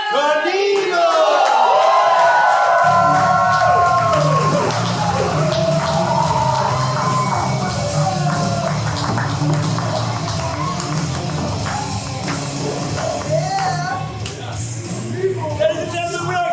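A live crowd cheers, whoops and claps loudly for the band. The noise is dense and sustained, a low rumble of voices under it, with scattered shouts and some speech-like calls carrying throughout.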